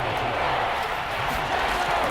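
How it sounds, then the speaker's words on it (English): A stadium crowd roaring in Madden NFL 22 during a big third down, a steady dense wash of cheering and noise that holds evenly throughout the short stretch, with no commentary over it. "the crowd getting into it as we come up on a big 3rd down"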